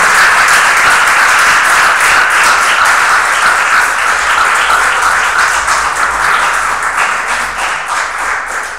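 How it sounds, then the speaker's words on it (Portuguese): A church congregation applauds loudly and steadily, a thick, sustained burst of many hands clapping close by that fades slightly toward the end, with no one speaking over it. "Vamos aplaudir ao Senhor Jesus bem forte."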